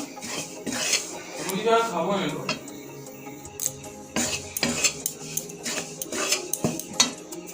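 Rice being dry-fried and stirred in a pan, heard as irregular scraping and clinking strokes of a metal utensil against the pan, close and fairly loud, with a voice briefly in the background.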